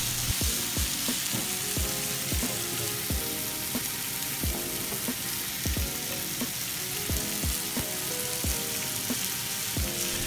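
Sizzling meat frying on a very hot iron plate at Ichiban Steak, a standing-style steak restaurant in Fukuoka, a steady close crackle with repeated sharp pops and spits throughout, no talk.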